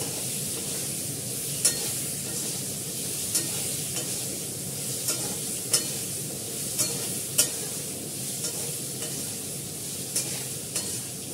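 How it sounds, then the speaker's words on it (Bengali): Potatoes frying in a pan: a continuous close sizzle with brief utensil scrapes every second or so as they are stirred, steady and unhurried, no voices. "আলুটা একটু ভালো করে ভেজে নেবো"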